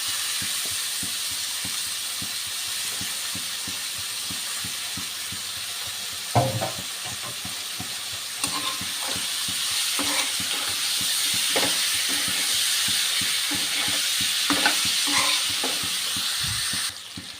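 Chunks of tripe fry in a hot pan with a steady sizzle, broken by repeated scraping stirs and occasional louder clatters of the spoon against the metal. The cooking is close by and no one speaks.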